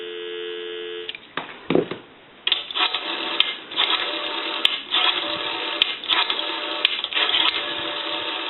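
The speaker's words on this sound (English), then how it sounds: "Give you some dial tone." A 233G three-slot payphone gives a steady telephone dial tone for about a second, then sharp dialing clicks and bursts of line noise over a faint hum.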